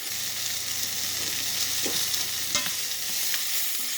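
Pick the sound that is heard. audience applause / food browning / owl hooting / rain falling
food browning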